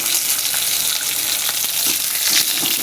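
Spiced fish fries crisp and red in a pan, giving a loud, dense, continuous sizzle and crackle heard up close with no voices.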